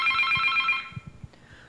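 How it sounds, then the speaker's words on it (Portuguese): A telephone bell rings in a rapid trilling burst for under a second and then stops, followed by a few soft knocks and a faint click. "Toque do telefone."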